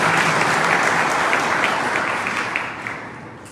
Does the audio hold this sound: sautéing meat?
no